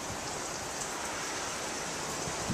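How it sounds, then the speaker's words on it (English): Light rain falling outdoors in cold, wet conditions, a dense, steady broadband hiss that stays even and fairly loud throughout, with no talking. "it's sort of raining a bit"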